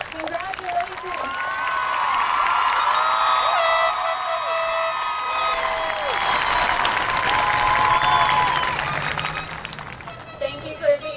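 High school graduation crowd clapping and cheering, loud sustained applause with shouts and whoops rising and fading, voices audible over it near the end.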